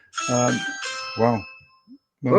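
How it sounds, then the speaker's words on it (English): A doorbell at home rings in a few bright chiming tones, close and clear, while someone talks briefly between the rings. "That's my doorbell."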